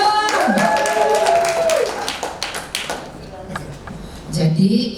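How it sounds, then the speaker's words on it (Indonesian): Scattered audience clapping at a church women's gathering breaks out under a speaking voice, with loose claps and shuffling as a singing or speaking tone fades, then talk resumes near the end. "Tepuk tangan dong."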